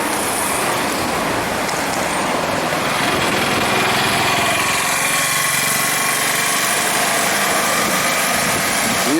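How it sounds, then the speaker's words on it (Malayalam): Steady rush of passing road traffic on a Sunday route toward Kumarakom, a continuous loud engine and tyre drone with wind noise, no talk. "ഒരു പക്ഷേ കുമരകത്തേക്ക് പോകുന്ന വണ്ടികളായിരിക്കാം"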